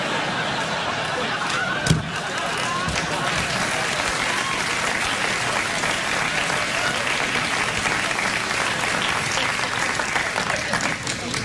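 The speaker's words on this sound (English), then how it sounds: "Are you clapping because you know when the Reformation ended?" Studio audience clapping on a late-night talk show, a steady dense burst of applause held at even loudness throughout, with a brief sharper accent near the start.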